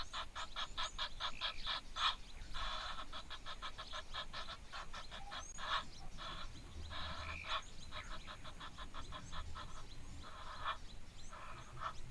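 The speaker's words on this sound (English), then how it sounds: "the male Egyptian geese are so noisy" Male Egyptian geese honk repeatedly in rapid, rhythmic bursts, a continuous harsh chorus at moderate distance over faint background noise at a waterhole.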